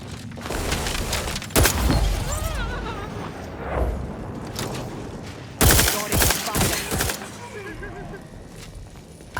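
Gunfire rings out in The Outer Worlds 2, with scattered sharp shots and booming bursts over a busy game background, two especially loud volleys standing out.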